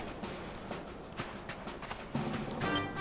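Horse hooves clip-clop at a steady trotting rhythm in the Dragon Quest XI video game, faint and even, with a soft game-music tone entering near the end.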